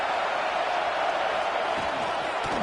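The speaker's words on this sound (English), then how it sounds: "This crowd bringing the energy and noise early." Stadium crowd at a USC football game makes a steady roar of cheering and noise at moderate distance, with a faint announcer-like voice mixed in.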